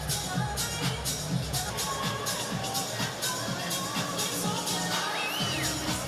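A boxing crowd at the O2 arena roars for Chisora, a dense steady wash of cheering and shouting from many voices with a whistle rising near the end, heard from within the arena.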